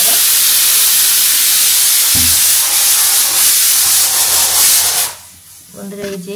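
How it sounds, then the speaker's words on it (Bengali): A pressure cooker boiling jackfruit seeds lets out a loud, steady rush of hissing steam that lasts about five seconds, then cuts off sharply, leaving quieter kitchen sounds. "প্রেশার কুকারে বসাই দিচ্ছি আমি কাঁঠালের বিচি।"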